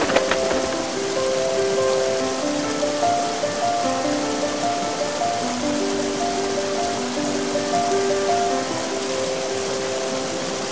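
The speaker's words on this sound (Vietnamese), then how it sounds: "Ôi, lại mưa rồi, tớ phải bay đi trú mưa đây" Rain falls steadily in an animated fairy tale, a continuous close hiss with soft music playing over it throughout.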